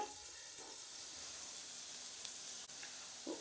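Vegetables half-fried in a pan for majjiga pulusu, giving a steady, soft sizzle throughout with a few faint scrapes of stirring near the end; no one speaks.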